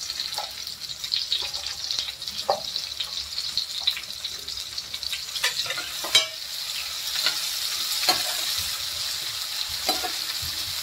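Tomato fries in a pan with a steady, bright sizzle, punctuated by occasional scraping stirs and clinks close by, continuous throughout without talk.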